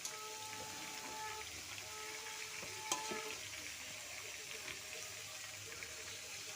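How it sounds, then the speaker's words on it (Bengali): Hot water poured into chicken curry cooking in a pan, giving a steady bubbling sizzle and watery hiss throughout, with one brief clatter near the middle. "আমি জল দিয়ে দিলাম, গরম জল করে রেখেছিলাম সেই জলটা।"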